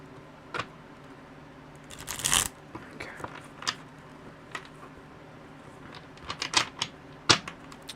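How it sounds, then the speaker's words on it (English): Chunky tarot cards with a plastic-like feel are shuffled by hand in scattered bursts of sharp clicking and flapping riffles, close and fairly crisp, with quiet pauses between attempts. "they're very, very hard to shuffle"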